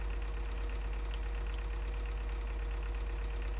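A tractor engine in Farming Simulator 2013 runs with a steady low drone and rumble while straining against a curb, with no other sounds over it.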